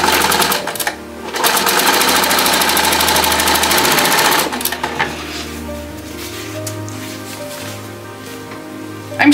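Longarm quilting machine sewing a quilt binding, a loud steady mechanical hum for a few seconds that then drops to a lower, quieter running tone, with no voices.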